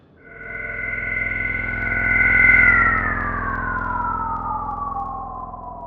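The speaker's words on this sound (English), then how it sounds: "A hum started." A steady, sharp electronic hum like an appliance rises in pitch and swells, then slowly glides downward over several seconds, clean and sustained over a low drone, with no voices.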